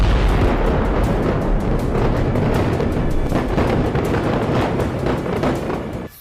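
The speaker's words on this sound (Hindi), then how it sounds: "ईरान की 3 बैलिस्टिक मिसाइलें मध्य इजराइल में सैन्य ठिकाने तेल नोफ बेस पर गिरी" Iranian ballistic missiles strike the Tel Nof military base in central Israel, heard as a loud, continuous roaring rumble of blasts with crackling bursts layered through it, filling the whole stretch without letup.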